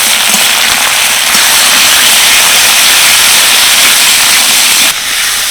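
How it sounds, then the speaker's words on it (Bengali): Onion, coriander leaves, curry leaves and cumin seeds fry lightly in a pan with a loud, continuous close-up sizzle and hiss that holds steady throughout, with no voices. "এবার সব কিছু হালকা করে ফ্রাই করে নেবো"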